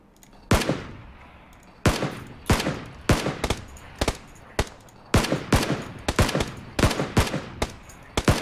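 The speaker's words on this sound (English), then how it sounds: "you're getting shot at" Loud, sharp gunshots ring out in PlayerUnknown's Battlegrounds, about fifteen cracks in irregular bursts and singles with short decaying tails, close and clear with no talking.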